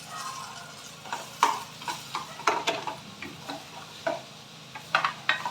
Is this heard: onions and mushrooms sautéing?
yes